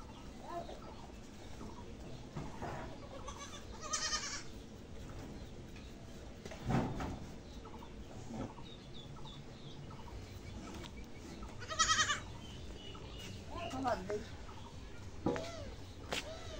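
A few goats bleat in a village yard, including a pregnant one, with scattered calls standing out against quiet background noise and faint chicken sounds.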